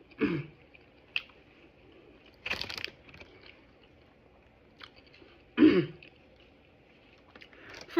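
Someone bites into and chews a cheeseburger dipped in sauce, with a few distinct close crunchy bites and soft chewing in between in a quiet room.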